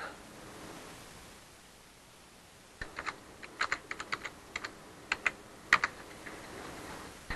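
Fingers typing on a computer keyboard during a recorded mobile web development lecture, beginning after a quiet stretch as a few scattered keystrokes that turn into irregular, moderately close clicks over faint background hiss.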